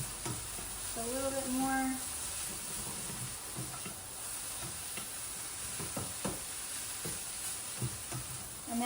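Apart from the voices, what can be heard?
stirring Brussels sprouts sizzling in a pan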